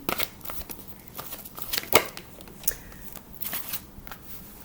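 Angel blessing oracle cards being shuffled by hand during a tarot reading, a series of crisp riffling bursts with short pauses between, close and fairly clear.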